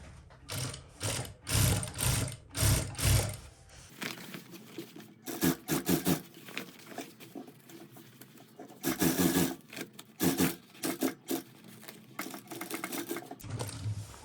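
A Jack sewing machine stitches the hem of jeans in rapid mechanical bursts, loud and close, with short runs of clattering stitches separated by brief pauses and no talking.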